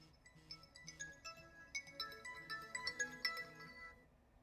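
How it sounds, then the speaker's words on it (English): A mobile phone ringtone goes off nearby, a bright chiming melody of repeated tonal notes that plays steadily for several seconds before cutting out. "Phone going off."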